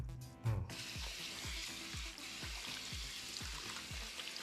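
Water runs steadily from a homemade semi-automatic handwashing tap as hands are washed under it, a continuous close splashing stream with a faint repeating knock behind it and no talking.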